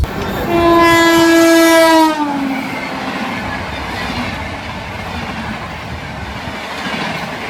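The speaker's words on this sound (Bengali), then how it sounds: "এবার আমরা দেখতে পাবো train number one double two double seven Howrah Puri শতাব্দী এক্সপ্রেস" The Howrah Puri Shatabdi Express sounds a loud, steady horn blast for about two seconds as it passes near Kharagpur Junction, followed by a continuous rumbling rush of the train going by.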